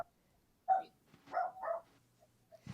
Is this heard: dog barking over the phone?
yes